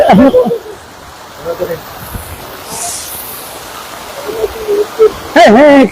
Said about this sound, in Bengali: এখান থাকি বৃষ্টির অবস্থা আপনারা দেখো